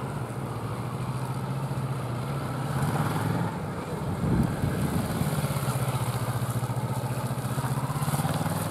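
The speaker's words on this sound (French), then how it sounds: "la moto va rouler un peu moins vite, la roue avant va braquer plus court" Motorcycle engine running at low speed in first gear during a U-turn exercise with rear brake and throttle control, a steady near idle-like drone that swells briefly midway, no talking.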